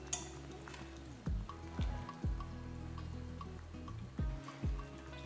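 Okra tossed into a pan for Tamil-style summer mor kuzhambu, a quiet steady fry with a few soft stirring scrapes and clinks, no voices.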